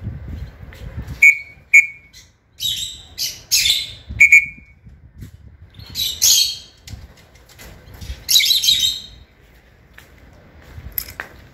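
Racing pigeons returning to the loft after a competition from Sidi Bennour, with repeated high whistles, chirps and short bursts of wing flapping scattered over quiet background.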